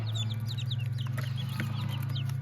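Newly hatched chicks peeping in quick, high, repeated chirps close by over a steady low hum from a heated brooder, with no talking.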